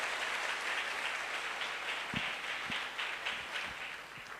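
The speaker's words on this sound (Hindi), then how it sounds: "तालियां होनी चाहिए।" A crowd at a motivational speech breaks into sustained applause, a thick wash of many hands clapping together at moderate loudness, with no one speaking over it.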